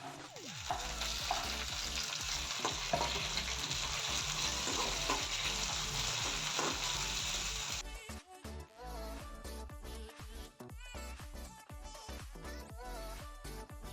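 Fish with tomatoes and mustard fries in a pan, a loud, dense crackling sizzle mixed with scraping stirs; the texture turns choppier and more broken partway through.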